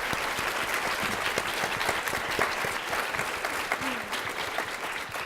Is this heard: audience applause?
yes